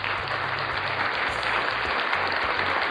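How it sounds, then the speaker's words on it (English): Steady, dense applause from a crowd at a live show, a continuous wash of clapping at even volume throughout with faint background music underneath. "Now go clap."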